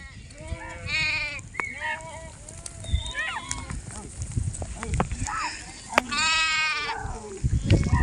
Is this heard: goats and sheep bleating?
yes